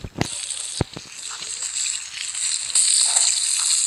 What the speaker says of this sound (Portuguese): Agora tem que deixar ele fritar.